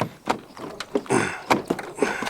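A pickup truck door slams shut several times in a row, each bang followed by a brief metallic rattle from a loose panel, close and fairly loud.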